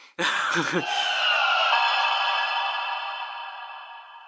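DX Memorial Progrise Key toy from the Hiden Intelligence set plays an electronic transformation effect: a sharp warbling, trilling burst followed by a long bright ringing tone that slowly fades out.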